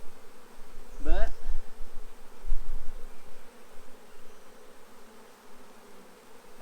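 A honeybee swarm buzzes around a hive outdoors, a dense continuous hum of many bees with a few individual bees passing close and loud.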